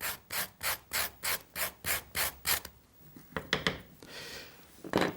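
A ceramic loop tool with toothed edges scrapes a sculpture block in about ten quick, even rasping strokes, close and clear, followed by a few irregular scrapes and rubs.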